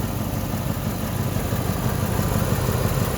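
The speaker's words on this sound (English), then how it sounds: "You can hear a little bit of an exhaust leak there." A 2002 Ford Expedition's 5.4-litre engine idles with a steady, rough rumble and a faint ticking rasp from an exhaust leak mixed into the drone, continuous throughout.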